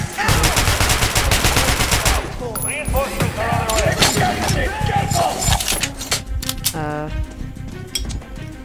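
Rapid automatic gunfire rattles loudly in the video game Metro: Last Light, followed by scattered shots and clattering game effects while a player talks over the action.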